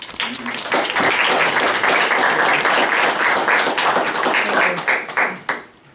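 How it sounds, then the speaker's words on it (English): Applause from a small audience at a village board meeting and town hall, steady dense clapping that fades out near the end as a voice begins. "Join me in a round of applause to welcome."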